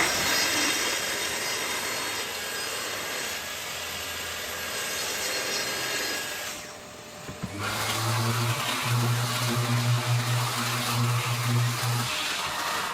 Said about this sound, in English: clean up all the edges with a track saw trim